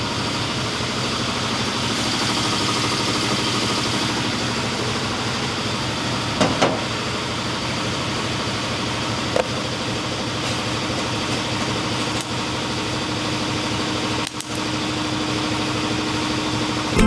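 Welding holes in the spare tire housing of a 1965 Pontiac Tempest, a steady, dense buzzing crackle running continuously and close with a few brief pops and breaks, no talking.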